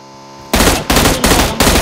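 Bursts of automatic gunfire in Battlegrounds Mobile India, four loud rapid volleys close up, each breaking off briefly before the next, following a quiet hum.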